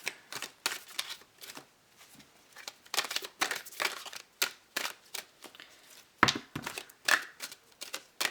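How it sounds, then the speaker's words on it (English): Tarot cards being shuffled by hand, close up: bursts of crisp riffling and flicking come in irregular clusters with short pauses between them, and no voice over them. "These cards are a little bit awkward to shuffle. I prefer shuffling them like this."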